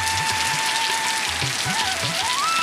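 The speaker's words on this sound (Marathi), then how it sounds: "पावसाची ये जा चालूच आहे" Rain falls steadily in a dense, even hiss, with a faint tonal whine and soft low thumps running underneath.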